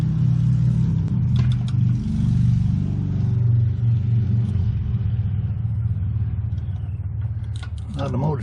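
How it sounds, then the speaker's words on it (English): Motorcycles pass by outdoors with a loud, deep rumbling engine roar that swells and slowly fades as the bikes ride past, heard near a Dayton generator under repair. "A lot of motorcycles going by here today."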